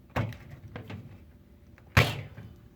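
A Panasonic microwave door with a broken latch is pushed and pops open, giving a couple of sharp clunks and clacks close by, the loudest near the end, with no talk.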